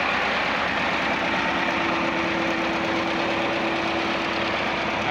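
A DT-75 crawler tractor's engine runs steadily just after a cold start following winter, a loud, continuous idling rumble with a sustained drone and rattling knock, with no voices over it.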